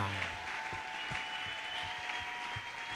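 A church congregation applauding and cheering during a prayer marathon, with steady dense clapping and raised voices filling the room throughout.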